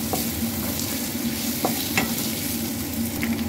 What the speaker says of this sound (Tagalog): ilagay na natin yung ating ginger. Tapos, yung ating garlic, guys. Tapos yung ating white onion. Gisa lang natin guys.